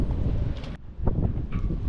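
Strong wind blowing out at sea off Silifke, Turkey, buffeting the microphone in a continuous loud roar with gusty dips and surges throughout, no voices.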